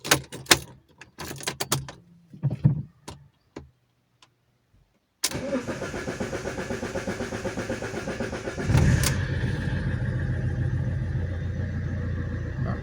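A MultiJet diesel car engine after a timing kit change, starting with keys jangling and clicks, cranking and catching, then idling steadily with a close, gruff clatter that grows slightly louder partway through.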